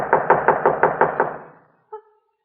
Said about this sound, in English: I'll go ahead and knock at the door